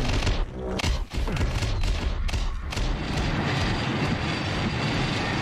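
Thermo Godzilla unleashing its Thermo Pulse attack in Roblox Kaiju Universe, a loud, dense roaring blast with rumbling booms and crackling bursts that carry on continuously without a break.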